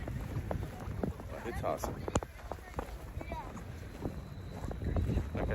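Wind buffets the microphone with low rumbling gusts in cold weather in Vyborg, while a person talks over it.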